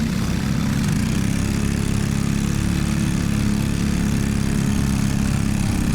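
Racing go-kart engines drone loudly and continuously at a race start, a dense buzzing roar of several small engines held close and steady without pause.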